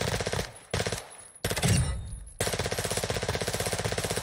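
A Vel submachine gun fires from the hip in Warzone 2 in loud rapid automatic bursts, with short pauses between strings and a long continuous burst at the end.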